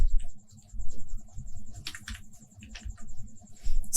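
Computer keyboard keys clatter in quick irregular bursts as code is typed, close and clear over a low hum with brief pauses.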